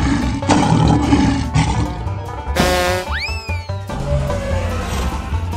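A cartoon lion lets out a roar amid playful animated sound effects, including a rising springy boing, loud and close over busy background music.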